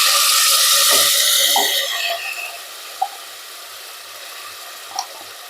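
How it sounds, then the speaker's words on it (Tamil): Soaking water is poured into ground horse gram in a kitchen, a brief bright splashing pour at the start that quickly fades, followed by a quiet background hiss and a couple of faint light taps. "அந்த இருத்து வச்ச தண்ணியவே ஊற்றிக்கலாங்க கொஞ்சமாக."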